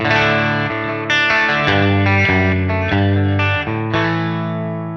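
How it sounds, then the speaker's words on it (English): A clean electric guitar plays a slow melodic line with a shimmering chorus, smooth compression, and trailing delay echoes, close and clear with no talking. "There's some compression, chorus, and a delay."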